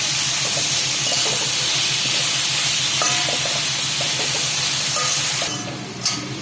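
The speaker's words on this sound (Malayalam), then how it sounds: "കുറച്ച് ഉപ്പും കൂടെ ഇട്ട് വഴറ്റിയെടുക്കാം" Chicken biryani masala sautés with salt in a pan, giving a steady close sizzle and hiss with occasional stirring scrapes, which ease off near the end.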